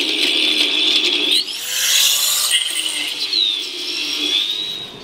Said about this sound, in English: grab a 13 mil drill bit and just drill just inside these corners.